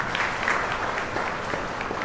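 Audience clapping at a university lecture in Malaysia, a dense, sustained round of applause from a crowd, fairly close and steady throughout, with no clear talking over it.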